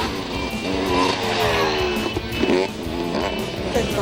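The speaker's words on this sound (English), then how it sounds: "At the motocross track in PEI, the race is underway" Motocross motorcycles race around a muddy track in PEI, their engines whining and revving together in a continuous, loud, wavering roar with pitch rising and falling as bikes pass.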